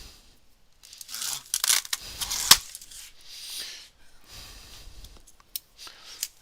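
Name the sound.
cutting open tape on laser engraver box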